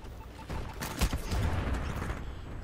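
Video game gunfire in Titanfall 2 multiplayer, a burst of quick shots with one sharper crack, moderately loud over a steady background wash, no talking.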